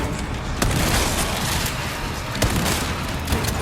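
Repeated close-range shotgun blasts in Resident Evil 4 Remake ring out over a dense, continuous roar of game combat noise, with several sharp booms spaced irregularly through the stretch.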